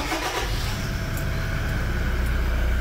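A car engine is started with the radio and air conditioning switched off and the glow plug preheated, catching and settling into a steady close idle rumble.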